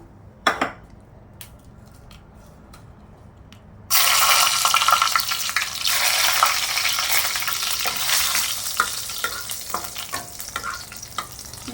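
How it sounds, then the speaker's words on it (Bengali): Dried red chillies dropped into hot oil for a Bengali prawn dal, a sudden loud sizzle after a few quiet seconds with light taps, then steady frying with stirring clinks. "এবার আমি ওই তেলেই প্রথমে আমি কটা শুকনো লঙ্কা দিয়ে দেবো।"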